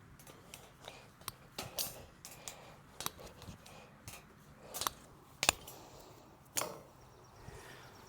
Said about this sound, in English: We snip it off with these bolt cutters.